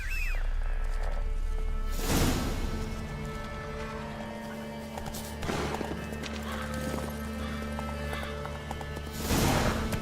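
Roach, Geralt's horse in The Witcher 3, gallops with steady clip-clopping hoofbeats and lets out loud whinnies near the start and end, over a low droning game soundscape.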